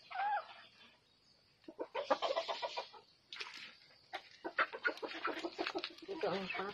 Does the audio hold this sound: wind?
no